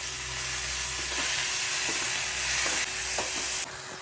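Tomatoes sizzle and fry in hot oil in a pan over low gas with salt added, a steady close crackle with a few soft stirring clicks and no talk.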